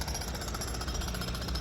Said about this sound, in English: there's a jackhammer hammering across the street